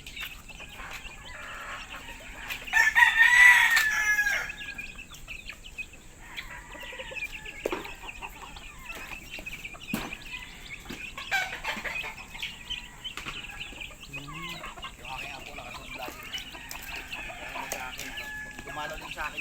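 Chickens in a poultry yard cluck and flap, with one loud rooster crow early on standing out above a low, busy backdrop of scattered clucks and faint movement.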